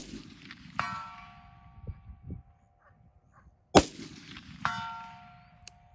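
Rifle shots fired through a CVLIFE 6-24x50 scope strike a steel silhouette target at 250 yards, each sharp report followed by a ringing metallic clang, repeated several times at moderate distance outdoors.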